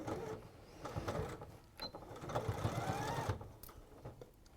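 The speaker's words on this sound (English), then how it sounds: "you've got a lot of fabric that you just want to push through the machine" A sewing machine stitching through a bunched-up mass of fabric runs in a steady mechanical whir with shifting speed, fairly quiet and close, with no talking.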